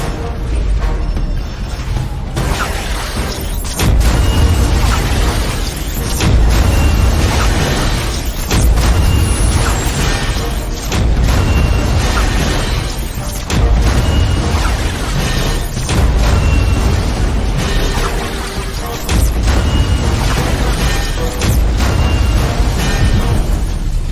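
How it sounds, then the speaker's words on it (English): Repeated seismic blast explosions in The Amazing Spider-Man 2 video game, heavy booming impacts and crashes one after another over a loud, continuous rumble of game action and debris, with no talk. "No one gets left out when I use the seismic blast."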